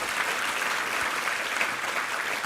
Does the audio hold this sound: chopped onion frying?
no